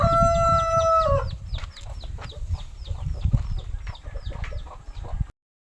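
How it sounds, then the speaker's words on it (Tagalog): A rooster crows near the start, followed by chickens clucking steadily in a busy, close chorus on a farm. "Namahok si Junjun sa manok."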